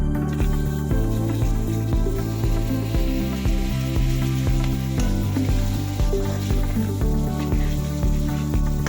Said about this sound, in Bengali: টমেটো ঢালছি, এবার